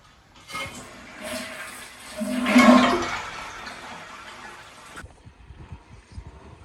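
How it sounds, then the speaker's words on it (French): A toilet flush in a guesthouse bathroom in Laos rushes in and swells to a loud gurgling peak, then cuts off abruptly after about four and a half seconds, leaving quiet room noise. "J'ai oublié de montrer la chasse d'eau l'autre fois."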